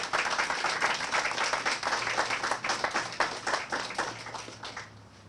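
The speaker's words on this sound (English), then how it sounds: "So if I could get a round of applause for those guys, I'd appreciate it." Audience applause at a groundbreaking ceremony for a maintenance and sanitation facility: dense, steady clapping from a crowd that holds strong, then thins and fades toward the end.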